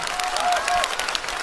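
Audience applause at a live comedy sketch performance, a dense and steady wash of clapping from a crowd lasting the whole moment, fairly loud with no voices on top.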